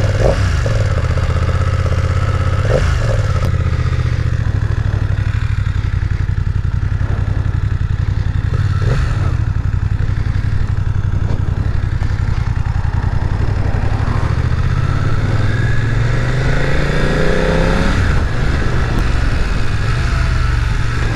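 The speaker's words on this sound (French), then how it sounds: "Alors c'est une F900R de chez BM, donc elle est équipée d'un shifter up and down" A BMW F900R motorcycle engine with an up-and-down quickshifter runs loud and close, a steady rumbling idle broken by several sharp revs and a rising, falling swell of engine pitch near the end.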